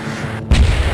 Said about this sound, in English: M203 fire.